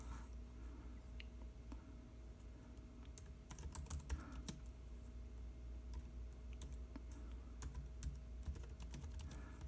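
Soft, steady clicking of typing on a Brydge Surface Pro keyboard connected to an iPad Pro, quiet and close, with keystrokes in a continuous irregular patter.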